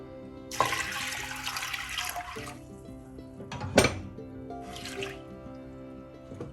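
Water poured into a pressure cooker holding cleaned green gram, a steady splashing pour for a couple of seconds, then a sharp clatter and lighter trickling, heard close with no talk.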